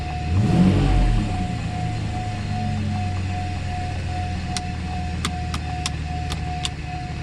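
A Mercedes SL600 engine, freshly fitted with repaired throttle bodies, revs up and settles into a steady run, close and fairly loud with no talk. A strong tonal whine holds throughout, and a few sharp ticks come near the end.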